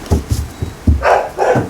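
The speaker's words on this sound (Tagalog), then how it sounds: "Pasensya na sa kahul ng aso" A dog barks in a quick run of several short, loud, close barks, heard alone with no talk.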